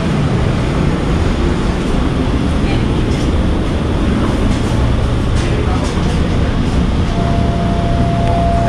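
A Recife metro train rumbles at a station, a loud continuous low roar throughout, with faint squeals and a steady tone near the end.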